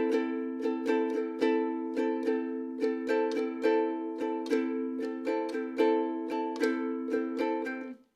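Ukulele strummed fast in a steady repeating pattern, crisp chord strokes packed closely together and played up close with no voices, ending on a quick cutoff.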